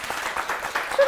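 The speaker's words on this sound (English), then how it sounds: "we need to give her a round of applause" A brief burst of applause, many hands clapping together in a steady wash of sound.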